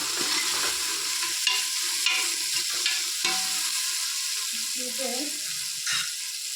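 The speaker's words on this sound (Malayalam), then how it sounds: "ഒരു 4 പച്ചമുളക് അങ്ങനെ കീറിയിട്ടത് അതിലൂടെ നല്ലോണം ഒന്ന് വാട്ടിയെടുക്കാം" Curry leaves and slit green chillies sautéing in oil in a pan, a steady, moderately loud sizzle with occasional scrapes and stirring clicks from a spoon.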